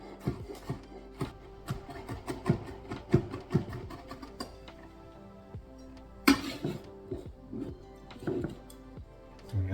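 Small garlic cloves are smashed on a kitchen board for a Vietnamese chicken salad, giving a run of sharp knocks and clinks close by, with one louder crack partway through and no talking.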